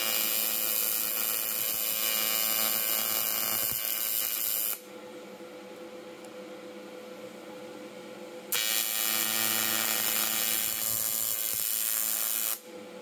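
A PrimeWeld TIG 225 welding thin metal gives a steady, bright electric buzzing hiss in two long stretches, separated by a quieter pause, and cuts off near the end.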